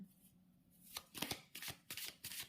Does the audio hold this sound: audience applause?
no